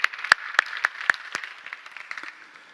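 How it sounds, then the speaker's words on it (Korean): A church congregation bursts into applause at a Friday worship service, sharp hand claps scattered and thinning out over a few seconds, no talk. "우리 박수로 격려합시다"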